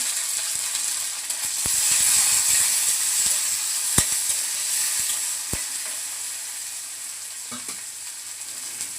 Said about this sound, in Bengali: এখন দিয়ে দেবো পেঁয়াজ কুচি আর ছেড়ে কাঁচা লঙ্কা